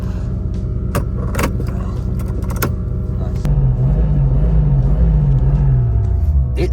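A car with a Toyota 1JZ engine runs close by, with a steady low rumble that swells louder halfway through as the revs rise, and a few keys jangle early on.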